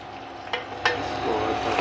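Onions sizzle in hot ghee in a pan, a steady close frying hiss with a couple of brief clatters as they go in or get stirred.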